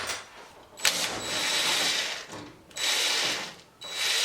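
Screws being backed out of the cord clamps on a clothes dryer, a steady metallic ratcheting buzz that runs in three long stretches with brief breaks, close and fairly loud, no voices.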